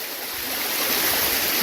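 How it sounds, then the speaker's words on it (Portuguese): A river stream swollen after rain upstream, rising over rocks, gives a loud, steady broadband rush of flowing water, close and continuous with no voices. "aumentando a água, tá vendo? É, com certeza deu uma manga de chuva lá em cima."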